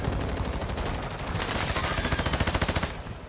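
Rapid automatic gunfire in a video game, a dense burst of shots that becomes a fast, evenly spaced rattle toward the end, loud and close with no talk over it.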